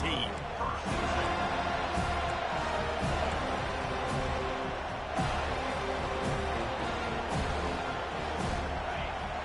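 In a football video game, a stadium crowd sends up a steady, dense roar that holds unbroken throughout, with faint voices blended underneath.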